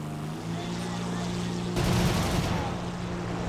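Guns on an Fw 190 D-12 fighter fire a short burst during a War Thunder dogfight, a dense crackling rattle lasting under a second over the steady droning hum of the aircraft engine.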